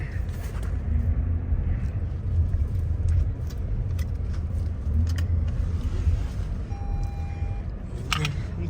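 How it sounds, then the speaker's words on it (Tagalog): Car engine rumbling at a steady low idle, close and continuous, with small clicks and a brief high whine near the end, no talking. "Iingay yung sasakyan natin."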